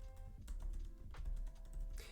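A few scattered keystrokes on a MacBook laptop keyboard tap out lightly and irregularly over a low background hum, close to the microphone, with no one speaking.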